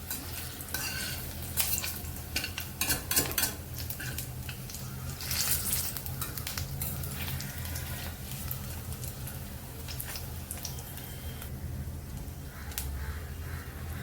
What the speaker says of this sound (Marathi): दोन्ही बाजून छान असं पनीर शेकून घ्यायचं आहे.